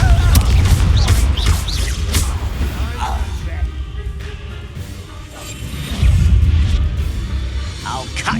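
A Confringo blasting spell detonates in the Hogwarts Legacy video game, a heavy low boom that swells, fades, then bursts again, mixed with game effects and a few sharp crackles.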